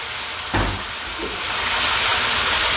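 Minced garlic hits a hot pan with a brief thump, then a broad steady sizzle builds and holds, loud and close, with no talking.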